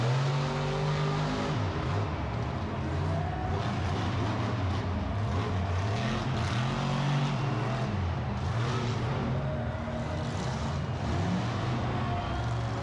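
John Gordon's Bad Company monster truck roars at a freestyle event in a stadium, the engine revving in repeated surging pulses, loud and sustained across the whole stretch with crowd noise underneath.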